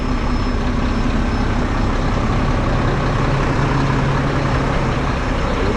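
A diesel truck engine idles and rumbles steadily up close, a continuous loud low drone with no talking.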